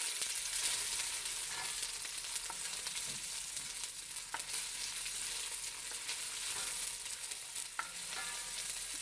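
Onions frying in oil in a pot for goat curry give a steady, close hiss and sizzle, broken by occasional stirring scrapes and ticks.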